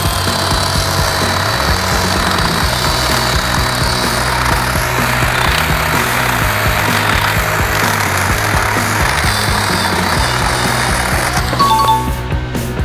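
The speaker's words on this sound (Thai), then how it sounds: "นี่นะครับประสิทธิภาพของเลื่อยแบตเตอรี่ 20โวลต์" Steady loud whine and rattle of a Total 20-volt cordless battery chainsaw cutting through wood, running continuously up close for several seconds without a break.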